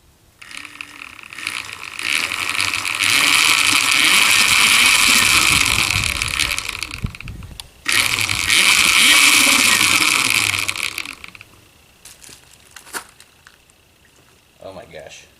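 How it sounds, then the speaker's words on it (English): The electric motor of a BMX e-bike runs under throttle in two loud, sustained bursts of whirring, broken by a sudden cutoff and then quieter handling noises near the end. "let's give the throttle a twist"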